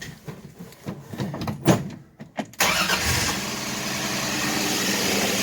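A 1966 Dodge Dart GT, left sitting since 1985, cranks with a few clicks and short bursts, then fires up and settles into a steady, fairly loud idle up close with no talking.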